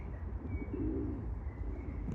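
Soft, low cooing of pigeons in a botanical garden in Kyiv, a rolling murmur near the middle, over a steady outdoor hum with a faint chirp at the end.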